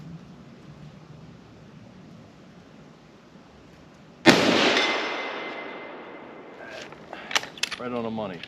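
A single loud, close rifle shot from a Winchester Model 70 chambered in .30-06 Springfield, with a sharp crack and a long decaying echo, followed by metallic clicks and handling noises.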